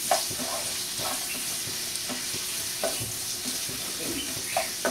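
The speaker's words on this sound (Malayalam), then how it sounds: "ഒരു മീഡിയം സൈസ് 3 സവാള ഞാൻ ഇട്ട് കൊടുക്കാം. അതൊന്ന് നമുക്ക് ചെറുതായിട്ടൊന്ന് വഴറ്റിയെടുക്കാം." Three medium chopped onions sautéing in a pan for gongura chicken, with a steady close sizzle and occasional stirring scrapes of the spoon, with no one speaking.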